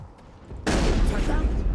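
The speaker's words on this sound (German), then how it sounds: "Das ist eine Pumpgun." A pump shotgun fires in the video game Mass Effect: a sudden loud blast that breaks a quiet moment and rolls on as heavy noise to the end.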